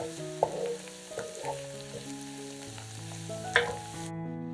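Salted, peppered mushrooms and onions fry in a pan while being stirred, a low continuous sizzle with a couple of brief scraping clicks, under gentle background music that cuts off at the end.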